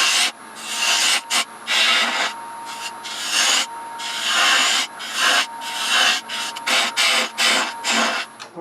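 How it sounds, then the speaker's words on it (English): Sandpaper rubs against a spinning Norfolk Island pine turning on a lathe, in loud bursts of abrasive hiss that start and stop repeatedly with short gaps, close and alone. "we're going to sand this off before we go ahead and take this down"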